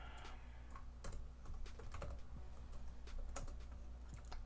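Quick, irregular keystrokes clatter on a computer keyboard, close and fairly faint, with no talking.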